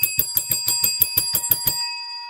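A small bell, like a bicycle bell, is struck in about ten rapid, even rings, then its metallic tone hangs and fades. It is close and clear, with no talk.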